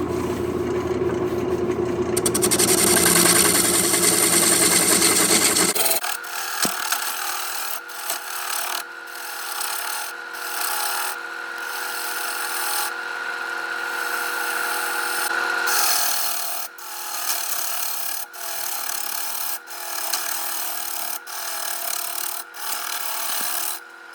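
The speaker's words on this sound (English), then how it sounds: "then I establish the rim, and then I'll start hollowing the bowl out" A wood lathe hollows a wooden bowl, likely a burl, as the gouge cuts in a loud, steady scraping rush. The cut eases after the opening seconds into lighter, intermittent scraping and rubbing passes that continue throughout.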